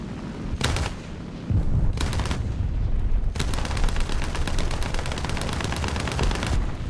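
An anti-aircraft vehicle in War Thunder fires a couple of single heavy shots and then a long sustained rapid burst of cannon fire, loud and continuous under faint battle rumble.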